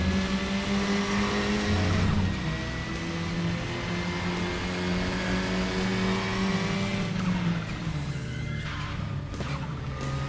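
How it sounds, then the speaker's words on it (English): KTM X-Bow in the RaceRoom racing game, tyres squealing and skidding under locked brakes over a loud continuous engine drone, with pitch sliding as the car scrubs speed. "Brakes are locked up there."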